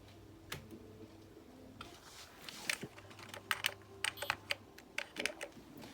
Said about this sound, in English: I can use the keyboard to switch between